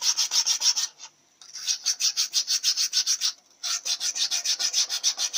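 A coarse sharpening stone is rubbed flat across a cast iron Chevrolet Powerglide transmission part, making quick rhythmic scraping strokes up close, in three bursts separated by short pauses.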